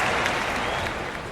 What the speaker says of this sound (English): Cleveland's fans applaud that play, as El Tiante is throwing a 1-hitter,